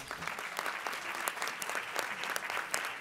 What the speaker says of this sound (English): So I think we need to give her a round of applause.